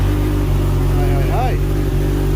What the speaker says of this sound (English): So ignition in, switch her on, fuel pump priming, give her a hit.